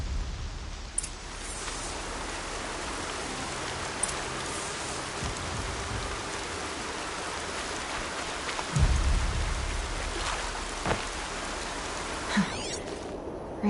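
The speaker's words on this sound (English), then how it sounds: "Rain's not so bad." Steady rain falls in the video game Horizon Zero Dawn, a dense, even wash of drops with scattered louder patters and a low rumble partway through, with no voices over it.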